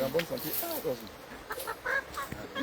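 A white chicken held as a sacrificial offering on a riverbank clucks in soft, repeated bursts close by, with outdoor background noise and faint voices around it.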